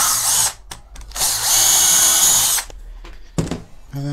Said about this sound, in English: so drill your pilot holes